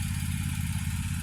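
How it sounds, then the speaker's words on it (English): A garden tractor engine runs at a steady idle, a continuous low rumble with a faint clatter, close and even throughout with no talk. "I'm so thankful we got this tractor"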